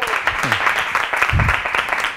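Audience applause on a Spanish television music show follows a song, a steady wash of clapping lasting throughout, with brief voices and a low thump mixed in.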